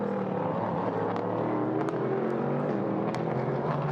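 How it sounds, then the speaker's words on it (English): Prototype race car engines growl together at the Lausitzring as the pack rolls onto the tri-oval, a loud, steady, rasping drone that holds without pause. "Listen to the growl of those engines as they come out onto the tri-oval."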